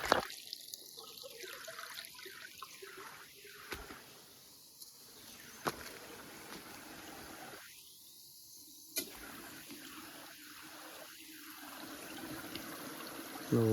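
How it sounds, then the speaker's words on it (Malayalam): Water leaking from a pipe in a dried-up riverbed, a thin steady trickle and dribble running throughout, close and fairly quiet, with scattered faint clicks and brief pauses. "പൈപ്പ് ലീക്കായിട്ട് വെള്ളം ലീക്കായിട്ട് പോകുന്നുണ്ട്"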